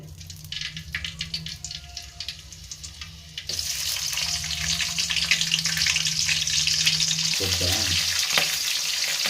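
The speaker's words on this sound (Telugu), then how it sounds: "ఆయిల్ వేడెక్కిన తర్వాత పచ్చిమిరపకాయలు, ఎర్రగడ్డలు వేసుకోవాలి, కరివేపాకు వేసుకోవాలి" Green chilies, onions and curry leaves hit hot oil for veg fried rice: a quieter lead-in gives way to a sudden loud, sustained sizzle and crackle, with a few stirring knocks near the end.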